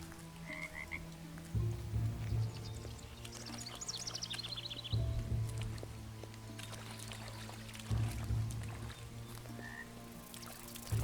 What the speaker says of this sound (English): You think I can get that frog if I'm really fast?